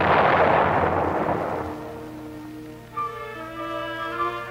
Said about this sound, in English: After surfacing, the mine is destroyed by gunfire from another following sweeper.